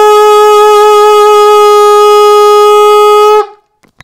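Middle F on an alto saxophone, played with the thumb key and register key, one long steady note lasting over three seconds, close and loud before it stops cleanly.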